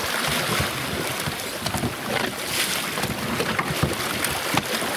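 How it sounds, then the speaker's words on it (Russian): Motor boat setting off on Lake Ladoga, heard as steady broadband engine and water rush with wind noise, continuous and fairly loud throughout, no talk. "Лодка. Лодка сейчас пойдет."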